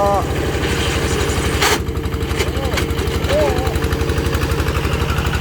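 A low-slung, three-wheeled riding lawn mower runs in a durian orchard, its engine thudding in a fast, steady rhythm close by, while someone talks and calls out over it.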